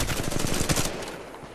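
A gun in Titanfall 2 fires a quick automatic burst of tightly spaced shots, loud and close, then breaks off into quieter background noise after about a second.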